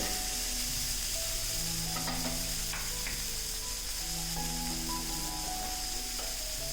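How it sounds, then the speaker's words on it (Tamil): Tomatoes and onions sautéing in a pan for a tamarind gravy, a steady loud sizzle and crackle with occasional stirring scrapes, continuous and close with no talk. "இப்போ அந்த தக்காளி வெங்காயம் எல்லாமே நல்லா நைஸாக வதங்கணும்."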